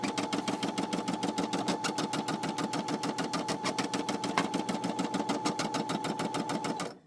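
A Brother SE600 embroidery machine stitches felties with a fast, even, rapid-fire mechanical chatter that runs continuously and close, then stops abruptly at the end.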